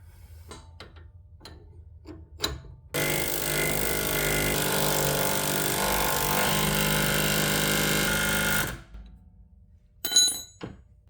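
A small impact wrench works on the sway bar end links of a 2011-2019 Ford Explorer, one loud continuous rattling burst of several seconds between scattered metallic clicks and knocks.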